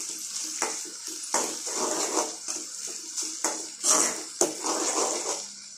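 Ginger and garlic sautéing in a pan for paneer butter masala, a soft steady sizzle broken by repeated spoon scrapes and clinks against the pan, close and fairly quiet, with no voices.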